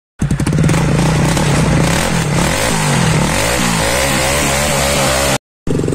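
A motorbike engine revs loud and close, a harsh, buzzing roar with rising and falling pitch as the throttle is worked, continuous for about five seconds before cutting out abruptly.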